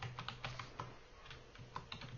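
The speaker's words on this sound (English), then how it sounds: "I'm going to do some quick typing here." Quick typing on a computer keyboard, a close series of light key clicks in uneven bursts with brief pauses.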